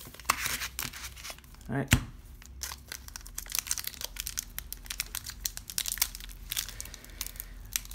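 Pokémon Cosmic Eclipse card packs being torn open make close crinkling foil, rips and crumpling in irregular bursts, with a brief spoken word.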